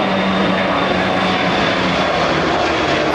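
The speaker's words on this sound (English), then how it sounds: "That's a jet from Love Field. I guess just taking off." A jet airliner taking off from Love Field in Dallas roars overhead, a loud, steady, broadband engine rumble that fills the whole stretch without a break, heard outdoors near trees with no talking.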